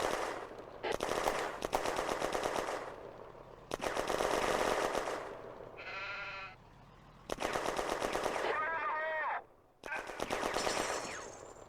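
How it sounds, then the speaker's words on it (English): Bursts of rapid automatic machine gun fire in a May 1940 battle near a bridge at Remilly, several loud sustained volleys separated by short pauses, with a brief metallic warbling sound between bursts. "Lacan's section spots Germans and opens fire"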